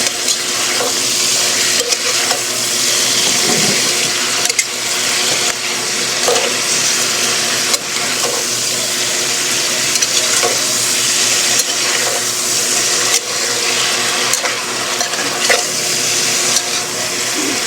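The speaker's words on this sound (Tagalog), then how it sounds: "Mix natin ulit." Spicy eggplant sauté sizzles loudly and close in a frying pan while being stirred, a steady frying hiss with repeated spatula scrapes and clinks throughout.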